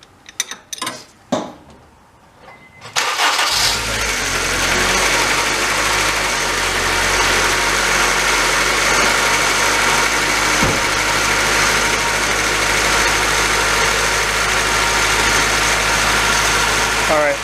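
A Honda Civic Si EP3 with a K20A3 engine idles steadily after a belt tensioner replacement, a loud, even mechanical hum with faint ticking, preceded by a few brief clanks before it settles.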